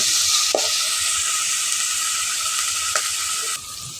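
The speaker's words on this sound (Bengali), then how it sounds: "পেঁয়াজটা ঢেলে দিয়ে পেঁয়াজটা একটু কষিয়ে নেব" Chopped onions sauté in a hot pan with a loud, steady sizzling hiss, broken by a couple of brief stirring scrapes, with no talking.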